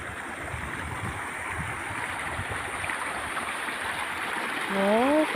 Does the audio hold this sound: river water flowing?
yes